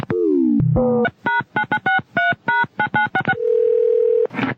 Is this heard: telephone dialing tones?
yes